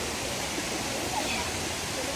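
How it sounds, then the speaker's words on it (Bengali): Water rushes at Krang Shuri waterfall in Meghalaya, a dense, continuous roar of broadband noise that holds steady and is close and full, with faint voices mixed in. "এই যে ওয়াটার ফলসটা"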